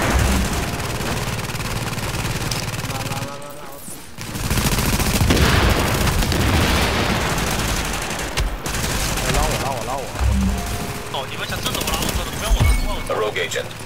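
Dense, rapid gunfire and explosions from a rogue PvP match in the video game Tom Clancy's The Division, loud and nearly continuous with a brief lull, with voices under the combat.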